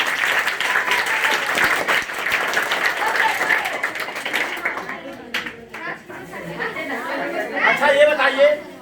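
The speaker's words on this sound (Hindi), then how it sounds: "एक बार दोनों मैडम के लिए जोरदार ताली।" Loud applause and clapping from a crowd at a gathering in Surat, Gujarat, dense and steady at first, then thinning into scattered claps and chatter as people talk over it.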